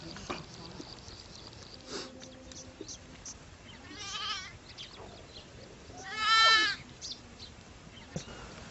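A goat gives two wavering bleats, the second louder and longer, in a rural Haryana village yard over faint background noise, with brief speech nearby.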